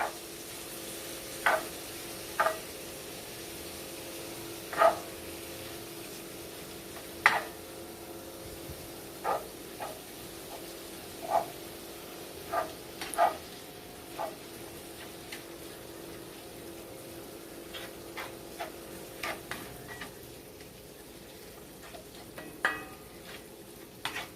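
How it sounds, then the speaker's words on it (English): Ground beef browning over medium heat in a good-sized skillet gives a steady, soft sizzle, broken by frequent sharp pops and spatula clicks scattered throughout, with no talking. "Brown your ground beef over medium heat."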